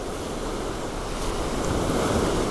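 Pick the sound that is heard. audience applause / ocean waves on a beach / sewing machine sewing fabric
ocean waves on a beach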